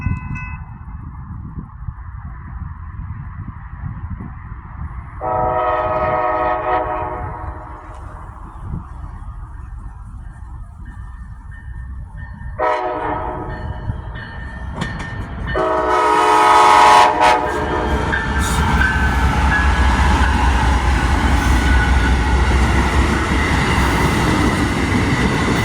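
A freight train blows its horn in several long blasts while passing, the horn sounds separated by brief gaps, followed by a loud, sustained rumble of rail cars going by close at hand.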